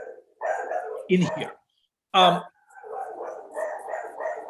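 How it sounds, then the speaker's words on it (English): A dog barks a few times indoors, two short loud yips standing out, with people talking before and after. "That sounds like a happy dog."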